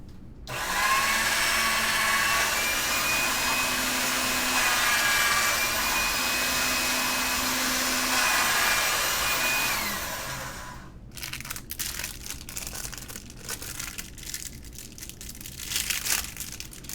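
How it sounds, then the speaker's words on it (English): A pasta machine rolls polymer clay through its rollers twice. There is a loud, steady motorized whir for about ten seconds, then softer crinkling and handling clatter. No voices. "let me run this real fast through the pasta machine a couple times"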